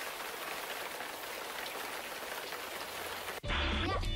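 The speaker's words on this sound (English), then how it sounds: "The rain is starting to fall." Steady rain falling on a surface, a dense even patter filling most of the stretch before an abrupt cut to a different louder sound near the end.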